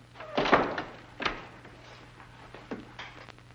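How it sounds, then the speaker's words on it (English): A door in a 1940s mystery thriller is pushed shut with a heavy thunk, followed by a second lighter knock and a faint later click as it is locked, set over a low steady hum in a quiet room. "Lock the door again."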